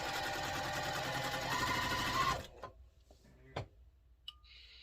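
A sewing machine stitches quilt block seams in a steady, rapid whir for about two seconds, then stops, leaving a few quiet clicks and handling noises.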